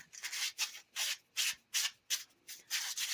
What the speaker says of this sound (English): let's give it a little tiny bit sanding